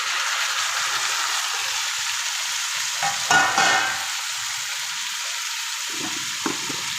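Chopped tomato pieces frying in a pan for a tomato curry: a constant hiss of oil that flares into a louder, wetter sizzle midway, followed by a few light clinks.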